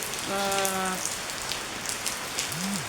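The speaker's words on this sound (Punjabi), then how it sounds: "ਡੇਢ ਘੰਟੇ ਤੋਂ ਮੀਂਹ ਆ ਜਿਹੜਾ ਪੈ ਰਿਹਾ ਵਾ ਹਨਾ ਦੇਖ ਸਕਦੇ ਹੋ" Heavy rain pours down in a continuous, dense hiss, with a brief tonal call rising near the start and another near the end.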